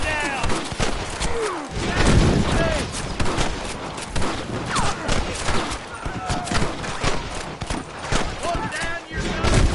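Gunfire in the Western video game Red Dead Redemption: rapid, overlapping gunshots crack and boom throughout a close, chaotic shootout, with voices shouting over the firing.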